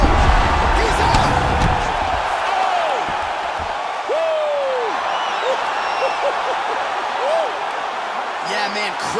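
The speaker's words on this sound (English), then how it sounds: "Yeah, man, crowd loving it." Crowd roaring and cheering after a knockout in the EA Sports UFC 4 fighting video game, a loud sustained wash of noise with whoops rising over it and a commentator's voice woven through.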